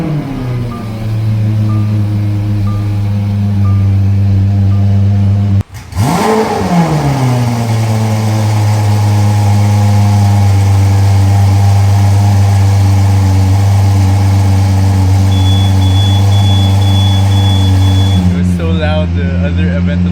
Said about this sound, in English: So while we wait for the engine to warm up, let me show you a couple of features that this Gintani exhaust system has.